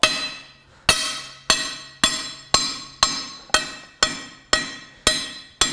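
A hardened falchion sword blade striking a Brooks anvil, ten sharp metallic clangs at an even pace of roughly one every half second, each ringing bright and decaying before the next, close and loud.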